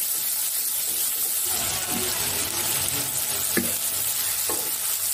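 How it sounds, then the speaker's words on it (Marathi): Chopped onion sautéing in a pan for Indian-style masala pasta, a steady close sizzle with scraping stirs and a couple of spatula taps, no talk. "कांदा आता आपल्याला हलकेसे सॉफ्ट करून घ्यायचे आहे फक्त।"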